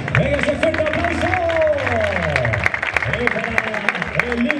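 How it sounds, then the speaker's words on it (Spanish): Crowd at a Vuelta Ciclista de Salamanca cycling stage applauding the race leader in the yellow jersey, steady clapping and murmur running throughout alongside a loud announcer's voice. "¡Venga, ese fuerte aplauso!"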